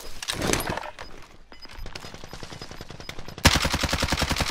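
Gunfire in Call of Duty: Modern Warfare, with rapid automatic bursts in quick rhythmic volleys. A short lull comes before a louder, sustained stream of shots near the end.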